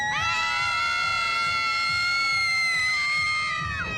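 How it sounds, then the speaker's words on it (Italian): A crowd at the night carnival in Barge lets out one long, loud collective shout that holds steady throughout at close range, then tails off at the end. "Mi fate al mio 3 un forte urlo per gli amici di Rete 7?"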